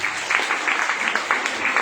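Loud, dense applause from a crowd, steady clapping throughout with no break.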